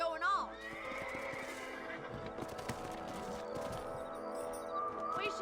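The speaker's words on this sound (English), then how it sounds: "Let's get back on the horses and see what else is going on." In the Red Dead Redemption western game, a horse gives a sharp whinny at the start and again near the end, with hooves clopping and tack noise under quiet background sound at a low overall level.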